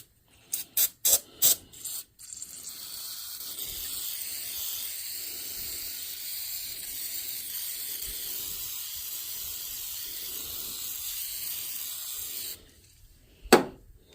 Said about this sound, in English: So I'm gonna do some razor blade scraping, brake cleaning, get that, some of that off there.